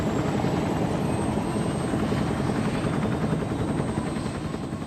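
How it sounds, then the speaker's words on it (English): Bell UH-1 Iroquois Huey helicopters lifting off in a large formation, a loud, steady, dense rotor chop and turbine roar sustained throughout with no voices. "the massive flight of choppers was lifting off the ground and maneuvering into tight formations"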